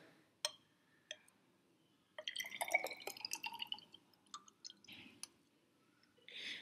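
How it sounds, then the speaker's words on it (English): Water poured into calcium hydroxide powder to make lime water, heard as faint drips and a short trickling splash into a glass vessel, with scattered ticks and drops before and after in a quiet room. "So we basically add the water."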